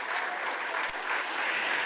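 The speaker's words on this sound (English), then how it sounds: "A round of applause for them." A crowd at a gala awards night bursts into applause, a thick continuous roar of clapping from many hands, heard alone and at fairly low level.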